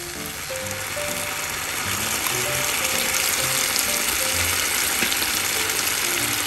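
Sake poured into a hot pan of egg and wood ear mushroom oyster-sauce stir-fry at an outdoor campsite cooking setup, raising a loud, steady, dense sizzle that builds and holds, with faint metallic clinks underneath.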